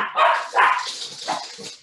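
Small female pet dogs barking indoors nearby, several loud yaps in quick succession that fade to softer barks, with no talk over them.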